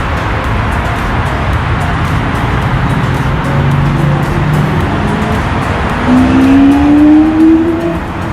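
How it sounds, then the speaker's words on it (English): A Lamborghini sports car drives past on a Dubai city street with a loud, steady roar of engine and road noise, its engine tone rising and swelling toward the end. "Look at that Lamborghini."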